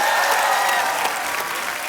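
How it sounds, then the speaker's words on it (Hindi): Studio audience on a Hindi comedy talk show bursts into loud, sustained applause, a dense steady wash of many hands clapping that holds level throughout before easing slightly near the end, with no voices over it. "जोरदार तालियां हो जाए।"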